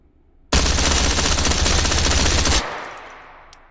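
A rifle fitted with a flash hider fires in the VR shooter ModulAR2 as one loud, close, continuous automatic burst of about two seconds, followed by a fading echo tail.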